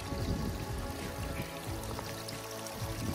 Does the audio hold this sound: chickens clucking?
no